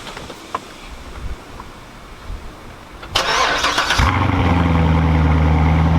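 A supercharged C7 Corvette engine cranks with a brief whirring starter burst, then catches and settles into a loud, steady, deep burbling idle close by, after a few seconds of quiet background.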